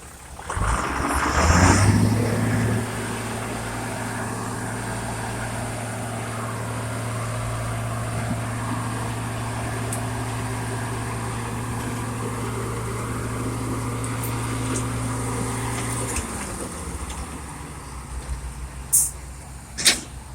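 A tractor engine labouring through hard soil, a loud steady low drone with sustained harmonic tones that hold for many seconds and then drop in pitch as the load shifts, followed by a few sharp knocks near the end.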